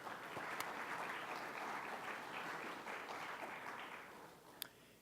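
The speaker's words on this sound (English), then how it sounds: "Could we have a round of applause for our color guard and our bugler?" Applause at a ceremony honoring a color guard and bugler, a steady crowd of many hands clapping from a seated audience in a hall, holding evenly and then tapering off near the end.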